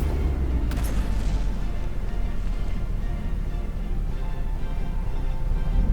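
Warship guns firing in the naval combat game From The Depths, a dense continuous rumble of booming artillery with a sharp crack near the start, heavy and loud throughout with no voices.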